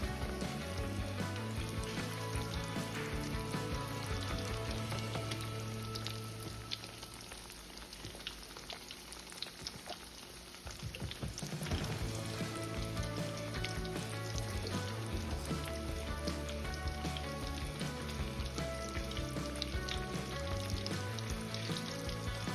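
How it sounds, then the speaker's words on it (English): Eggplant slices fry steadily in hot oil for eggplant lasagna, giving a continuous close crackling sizzle that dips briefly in the middle before returning at full strength, with no talking. "So in the oil, I'm gonna fry them"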